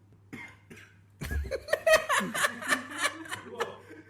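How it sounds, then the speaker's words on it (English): A short burst of coughing mixed with chuckling and laughter from nearby people, with faint murmuring before it. "Oh, someone's coughing."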